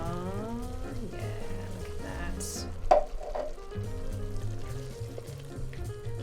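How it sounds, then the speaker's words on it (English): Tinned tomato soup poured into sizzling spiced chicken for butter chicken, a steady fry and sizzle with a brief splashing burst as the soup goes in, a voice talking over it. "adding our secret ingredient, our tinned tomato soup"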